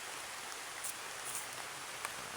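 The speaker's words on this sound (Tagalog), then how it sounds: "lakas na ng ulan." Heavy rain pours down in a steady, dense hiss with no pauses, faint and even throughout, with a few slightly brighter splashes standing out.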